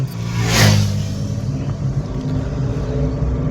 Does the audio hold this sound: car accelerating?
yes